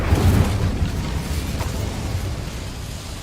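A fire spell cast in the wizarding game Hogwarts Legacy flares up as a low, rumbling whoosh of flame that swells loudly in the first half second and then fades into a steady burning roar with no speech over it.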